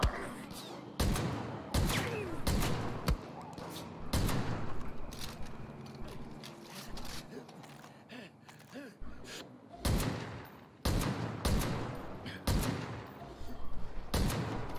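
Bursts of video game gunfire crack in rapid volleys, with sharp shots clustered in several loud flurries and brief gaps between.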